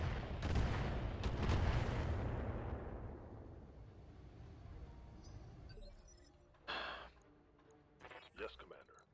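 Artillery and gunfire in a war video game: a heavy, rumbling blast and its long decaying roar open the sequence, followed by fainter scattered shots and metallic clinks as the fire continues.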